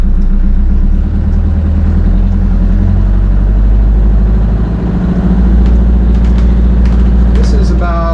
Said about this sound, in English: although you can hear the engine, as you can in pretty much all power boats